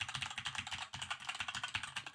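Fast, continuous clicking of computer keyboard keys recorded through a Maono AU-HD300T mic, close and fairly loud, with an even, rapid rhythm and a brief gap partway through.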